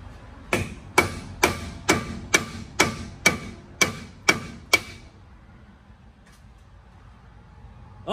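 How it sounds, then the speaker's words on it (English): Ten sharp metallic hammer blows on a GM limited-slip differential axle C-clip in a steady rhythm, loud and close, then a stretch of quiet with faint shop noise. "let's try the hammer now"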